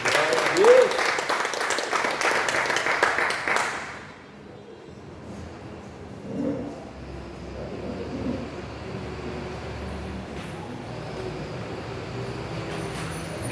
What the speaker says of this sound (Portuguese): Se você puder e quiser, aplauda o Senhor bem forte.